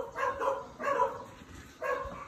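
A neighbor's dog barks in three short bursts of quick yips, fairly faint and slightly distant, heard alone with no talking.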